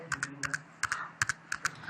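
Square brackets typed on a computer keyboard: a handful of light, crisp key clicks in quick pairs and short bursts, close and fairly quiet, with no talking.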